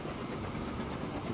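A train rolling along in Transport Fever, a steady low rumble with soft rhythmic clatter and hiss, continuous and moderately quiet with no talk.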